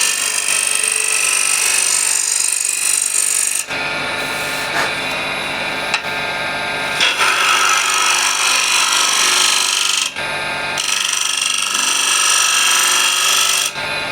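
A refiner scraper with a freshly ground burr blending a curve inside a wooden bowl, a loud continuous harsh scraping rasp from close by, broken into long strokes by a few short pauses.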